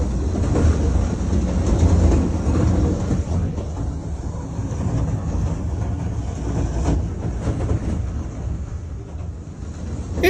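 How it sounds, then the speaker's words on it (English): A parked rail car comes off the tracks in Moore, Oklahoma, producing a heavy, continuous low rumble and grinding with scattered metallic clanks, fairly loud and close throughout. "A parked rail car came off the tracks."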